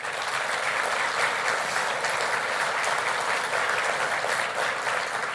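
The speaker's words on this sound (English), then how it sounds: "Let's give them applause" Sustained audience applause fills a hall during Davenport's 2025 State of the City address, a thick, uniform patter of many hands clapping continuously without talk.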